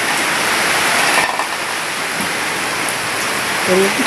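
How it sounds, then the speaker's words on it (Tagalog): Heavy, continuous rain during a flood makes a loud, even roar, with a brief faint voice-like sound near the end. "Makas naman ang ulan."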